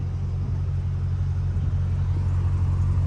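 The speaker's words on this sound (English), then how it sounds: "My boy revving a Hondeezy." A Honda car's engine rumbles loudly at close range in a low, steady, throbbing idle-rev that holds without pause for a few seconds.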